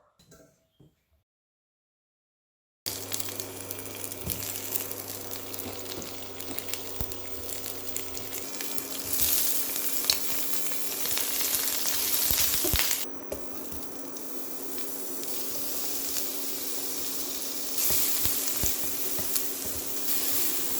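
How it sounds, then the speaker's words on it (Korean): Onions stir-fry in a pan with a steady close sizzle and occasional scraping and stirring clicks, after a brief quiet start. "양파가 투명해질 때까지 볶아줍니다."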